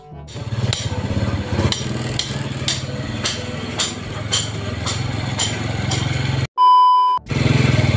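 A motorcycle engine runs loud and close in a home workshop, its rough idle punctuated by regular sharp knocks, briefly cut by a steady electronic beep before the engine noise resumes.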